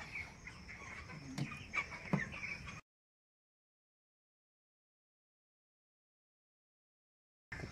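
35-day-old broiler chickens clucking softly nearby for a few seconds before the sound cuts to silence.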